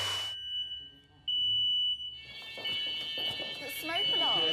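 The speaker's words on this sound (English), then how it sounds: "insecticidal spray can set off your smoke alarms" Smoke alarm set off by insecticidal spray in a large rural building's attic, beeping in a steady high-pitched electronic tone, with a loud, bright burst at the start and voices talking over the later part.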